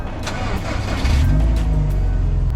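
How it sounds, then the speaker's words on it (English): Subaru WRX engine cranking and catching, then settling into a loud, steady low idle rumble up close after a window switch LED light upgrade. "So now let's start the car and test."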